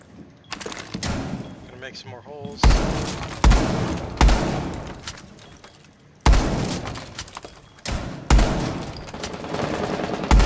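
Loud bursts of gunfire in a close-quarters Rainbow Six Siege match at Hereford Base, several sharp volleys and heavy thuds in irregular clusters, with a player's voice talking over the shooting.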